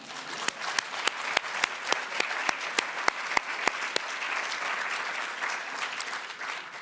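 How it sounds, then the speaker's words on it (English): Audience applause at an honoree event, starting with sharp separate claps in a quick rhythm that thicken into a dense, sustained wash of clapping, moderately loud with no talk. "That's worth an applause."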